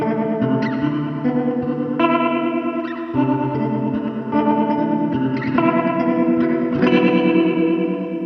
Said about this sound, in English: This just takes your sound and swells it up. It's kind of like a mix between a chorus and a tremolo.